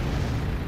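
A cannon blast in the mech game M.A.V., a dense low rumbling boom filling a short moment close behind the listener.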